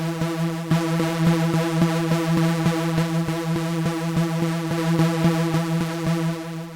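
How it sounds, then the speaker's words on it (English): A Serum synthesizer patch plays a steady, droning retro tone with rhythmic pulsing notes, heard first dry and then routed through an analog-modeled filter that rounds off some frequencies; loud, continuous, with no talking. "All this is doing is taking the entire synthesizer patch and routing it through a filter"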